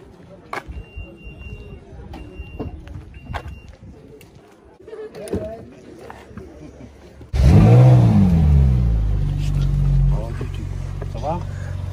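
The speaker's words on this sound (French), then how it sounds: "Donc tu es monté dans la 458 Italia. C'est une voiture avec 8 cylindres" A Ferrari 458 Italia's V8 bursts into a loud, close rev and pulls hard into acceleration partway through. The engine roar holds strong to the end, after a quieter stretch of cabin rustling and clicks.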